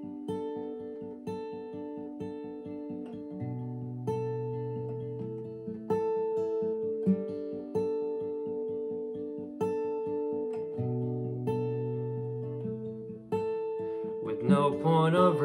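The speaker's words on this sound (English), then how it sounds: "Now I'm going to get to just kind of some of that finger picking." Acoustic guitar fingerpicking a worship song, a steady flowing pattern of plucked notes with rolling bass and melody, played alone and close, with a brief noisy scrape at the end.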